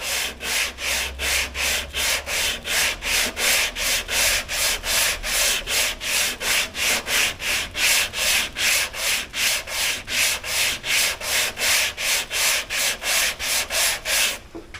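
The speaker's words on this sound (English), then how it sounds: "I'm just letting the sandpaper do the work. We're going to block in a crosshatch or X pattern." A sanding block rubs sandpaper over body filler in a crosshatch pattern, making loud, steady back-and-forth rasping strokes in an even rhythm of about two per second, with no talking.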